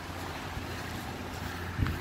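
Strong, dusty wind blows continuously outdoors, a dense rushing roar with low buffeting and a brief thump near the end, no voices.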